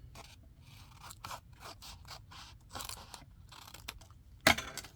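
Scissors trimming paper for mixed-media crafting ephemera, a run of quiet snips and rustles with one sharp, louder cut near the end, no talking.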